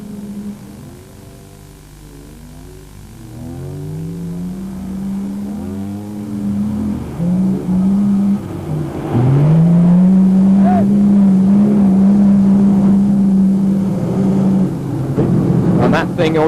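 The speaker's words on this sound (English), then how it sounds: "People keeping the revs high, keeping the wheels spinning" Dakar rally vehicles rev hard with wheels spinning in deep sand, a sustained engine drone rising and falling in pitch and growing louder toward the end, with people talking over it.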